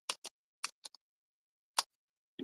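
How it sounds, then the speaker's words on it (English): Several short, crisp snips of sticky scissors during card making, a quick pair and a few more spaced clicks, close and dry against silence. "Oh, my scissors are sticky again."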